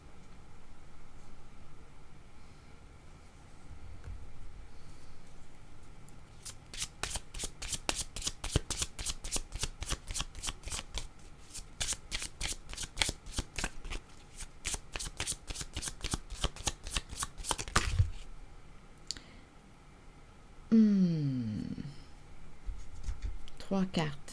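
A deck of tarot cards is shuffled over and over in rapid riffling bursts at close range, with a voice speaking around the shuffling.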